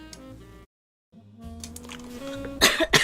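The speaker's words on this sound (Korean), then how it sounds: "기침만 안 하면 되는데." A girl gives a short cluster of loud, close coughs at the very end, following background music and a brief silent gap.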